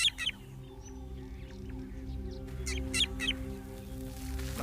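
A drongo bird sounds a false alarm warning, a short run of faint, harsh chirps and rasps that surface partway through over a steady low outdoor hum.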